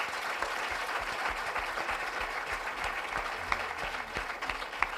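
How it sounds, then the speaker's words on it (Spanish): Loud, sustained applause from a crowd, a dense clatter of clapping that holds steady throughout. "Un aplauso, por favor, para Beatriz."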